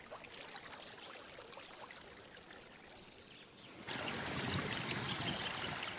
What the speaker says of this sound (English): From all directions, water is flowing into lower-lying parts of the Saaremaa National Park.